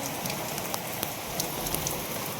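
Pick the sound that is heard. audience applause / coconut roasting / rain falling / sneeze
rain falling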